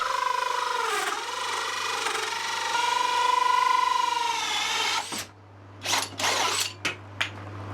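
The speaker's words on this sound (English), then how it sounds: "I drilled out the cable holes on the top and the bottom of the box" A drill press whines with a sustained, pitch-shifting motor hum while drilling holes in wood, then gives way to several short bursts of cutting and grinding.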